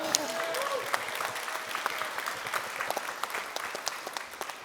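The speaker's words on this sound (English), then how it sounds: "Can I get an applause for that?" Audience applause at a crypto conference session in Abu Dhabi, a steady patter of claps from a moderately sized crowd, somewhat distant, lasting throughout and tapering slightly toward the end.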